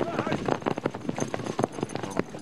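Horse hooves clip-clopping as riders train in fantasia, the ancestral equestrian tradition, at a riding club. Rapid, uneven hoof strikes sound close and busy under steady talk throughout.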